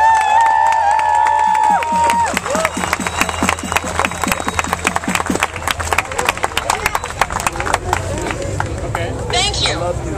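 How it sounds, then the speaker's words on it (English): A crowd at Occupy Los Angeles breaks into applause and cheering, with sharp individual claps starting after a brief tone and building into a dense, close, lively clatter with voices mixed in. "Let's give a round of applause for Diana"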